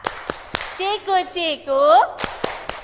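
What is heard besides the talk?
children clapping hands in a classroom clapping song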